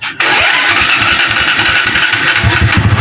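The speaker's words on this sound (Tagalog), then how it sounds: "Ang issue ng motor ni boss, hard starting at parang may pumuputok-putok." A Barako 175 motorcycle engine with a hard-starting fault catches after a brief crank and runs loud and close, rough and uneven with sputtering pops.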